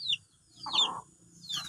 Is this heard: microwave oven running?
no